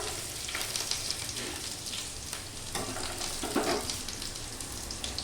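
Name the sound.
chopped ginger added to hot pan, sizzling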